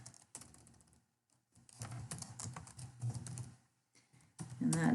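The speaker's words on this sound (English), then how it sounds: "I'm going to type income summary." Someone types on a computer keyboard in bursts of rapid clicking keystrokes broken by short pauses, fairly close and with no speech over it.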